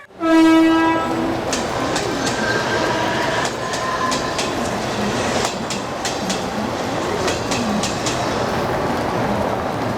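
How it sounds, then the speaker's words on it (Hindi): A fast train passes through Borivali railway station in Mumbai: a loud horn blast opens, then a continuous heavy rumble with quick rhythmic clacking of wheels over rail joints. "एक जलद गाड़ी जाने वाली है। कोई यात्री रेलवे लाइन पार न करे। तेज गाड़ी पास हो रहे हैं।"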